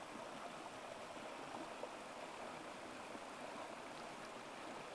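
A cold mountain stream holding wild brook trout rushes steadily, a faint broadband wash of flowing water throughout with no voices.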